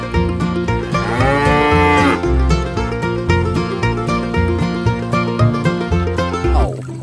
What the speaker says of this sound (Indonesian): Bu, suara dari kerbau.